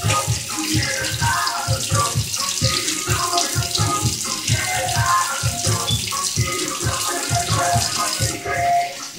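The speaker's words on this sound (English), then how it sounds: "then I'm rinsing that out" Tap water runs steadily into a kitchen sink while a cut pepper is rinsed for guacamole. The splashing is close and continuous, with uneven sloshes throughout.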